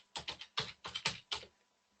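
Typing on a computer keyboard in a quiet room, with six quick bursts of clicking keystrokes over two seconds before it stops, close and clear with no voice.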